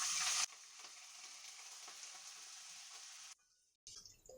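Chopped green chillies and curry leaves hit hot oil with a loud hiss that settles into a steady, bright sizzle, briefly cutting out near the end before resuming.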